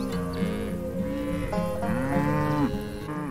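Polish Red cattle in a herd on pasture, moving and lowing: overlapping long, loud moos with drawn-out tones from several animals, near and continuous.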